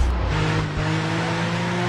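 A car in Driver San Francisco drives fast with a loud, continuous engine drone and a brief tire squeal early on, alone and close up.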